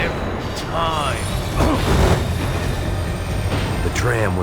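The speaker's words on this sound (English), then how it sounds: "The tram was slowing down," Tram in the video game Max Payne 3 slowing down, a loud continuous rumble of rolling wheels and mechanism with brief squealing metallic whines, under a dense game soundscape.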